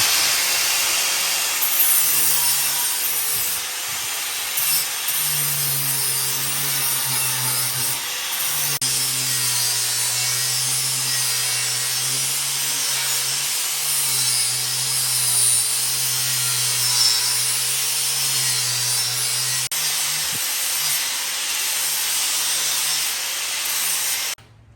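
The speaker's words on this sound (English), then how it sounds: "we're gonna grind it until it's got a perfect bevel and we can weld it" A grinder works a bevel onto the edge of a notched steel tube for welding, giving a continuous loud, harsh hiss over a steady motor hum that holds for the full stretch without talking.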